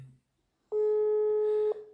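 A telephone call goes unanswered and ends in a busy tone, heard as a single steady electronic beep lasting about a second that cuts off sharply, after a brief moment of quiet.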